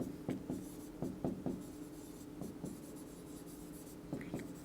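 A chemical compound name is written out on a board in quick, scratchy strokes, in short bursts with small pauses between them, close and clear with no voices.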